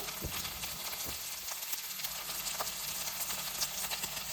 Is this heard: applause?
no